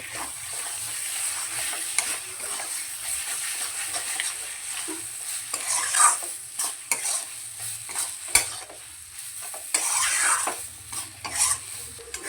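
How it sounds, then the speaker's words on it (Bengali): Turmeric-coated snail meat sautéing with spices in oil, a steady close sizzle under repeated scraping and stirring of a spatula against the pan, with occasional metallic knocks. "গুগলিটা দিয়ে মশলার সঙ্গে ভালো করে কষিয়ে নেব"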